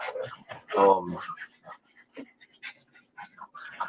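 Several puppies whimper and pant in short, irregular bursts, close and fairly loud at first, then fainter, with scattered soft yelps and breathy panting throughout.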